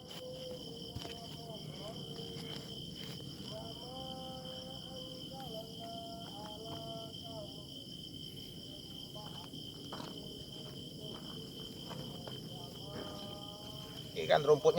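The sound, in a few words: insects chirping in the dark, crickets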